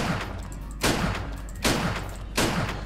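Rifle fire in a first-person shooter set in a Stalin-era subway station, three loud close bursts spaced about a second apart over a steady background rumble.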